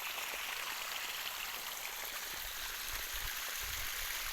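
Irrigation water rushes steadily through a pipeline into a maize field, a continuous close hiss and splash with soft low rumbles rising now and then.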